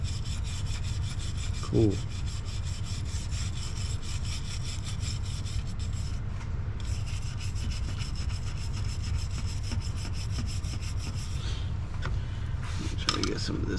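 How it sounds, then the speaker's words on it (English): Wire brush scrubbing crud off metal on a 2003 Chevy Cavalier, a steady close rasping scrape running throughout with brief knocks, and a voice speaking a word partway through. "now we're just going to take the wire brush and go along the whole thing"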